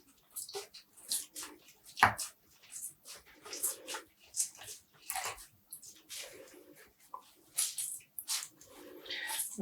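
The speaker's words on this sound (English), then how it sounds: "and just squeezing out the water." Wet, freshly dyed mohair yarn is squeezed by hand to press out water, producing soft irregular squelches and drips in quiet bursts, with one sharper splash early on.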